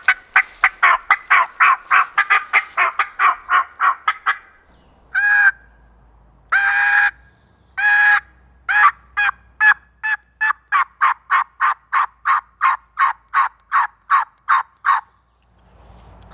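A diaphragm mouth call imitates a turkey yelp, with long runs of rapid, evenly spaced raspy notes, loud and close, broken by a few longer held yelps before speeding back into a quick rhythmic series.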